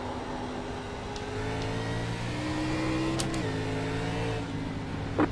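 An ARCA race car engine in the iRacing sim at Lime Rock drones steadily, its pitch climbing then dropping as the car lifts and accelerates, loud and continuous with no talk.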